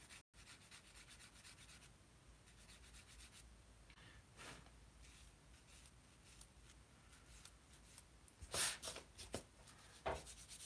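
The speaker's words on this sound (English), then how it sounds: "I'm using sanding sticks." A plastic model tank part is sanded with sanding sticks in quiet, close strokes of rhythmic rubbing and scraping, with a few louder scratches near the end.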